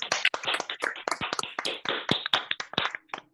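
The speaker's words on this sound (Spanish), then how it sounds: "Yo pediría un aplauso." A small audience claps after a talk: a brief burst of close, distinct hand claps that tapers off within a few seconds, with no speech over it.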